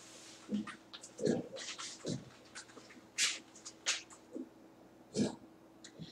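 Eraser wiping a board during a physics lesson on wave phenomena, a series of soft, brushy strokes in short irregular bursts, faint and close, with a quiet room in the background.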